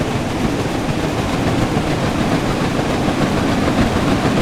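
Flying Scotsman steam train in Train Sim World 4 running at speed, with a steady dense rumble of wheels and carriages rolling along the rails, constant and loud throughout with no talk.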